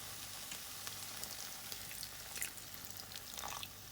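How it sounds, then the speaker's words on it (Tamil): Masala for bread upma sizzles steadily in a pan as water goes in, a dense hiss and crackle with small splashes and bubbling bursts, close and continuous with no talk. "கொஞ்சனா தண்ணி ஆட் பண்ணிக்கலாம்."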